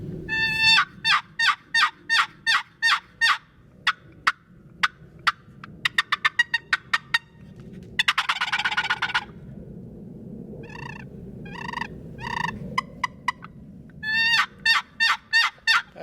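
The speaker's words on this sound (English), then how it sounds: "Now, this is what we call a meat call, hunting call, box call." A wooden turkey box call worked by hand, softer woods style, runs through a series of sharp, evenly spaced yelps in bursts, loud and close, with brief pauses and a faster run near the end.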